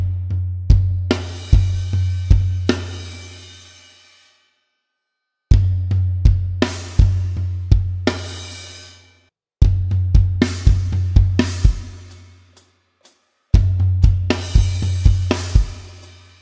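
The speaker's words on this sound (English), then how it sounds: "you're gonna add a snare drum, okay? But you're also gonna play the crash cymbal with it on the two and the four and" Drum kit playing a groove with snare and crash cymbal struck together on beats two and four, four loud repeated bars separated by short gaps, bright cymbal wash ringing over steady low drum hits.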